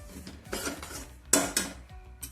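Barnyard millet is stirred and roasted in a pan, with scraping clinks of a spoon against the metal and a few sharper knocks, close and irregular.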